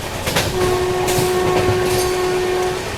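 Humsafar Express passenger train on the Rameshwaram–Firozpur route running at speed, a steady loud rumble of wheels and carriage noise with a long sustained horn tone heard from onboard, no talking.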